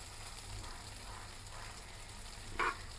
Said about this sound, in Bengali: উল্টে পাল্টিয়ে ভাজতে হবে দেখতে পাচ্ছ একদম কড়া করে কিন্তু ভাজতে হবে